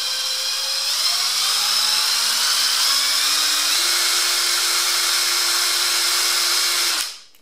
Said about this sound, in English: as it builds up you should hear the hammer action starting to kick in